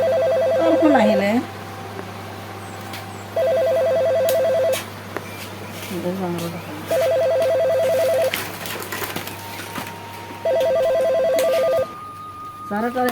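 Repeated bursts of a mobile phone ringtone, a steady warbling electronic ring sounding in four evenly spaced spells, with a low constant hum beneath and people talking softly in between.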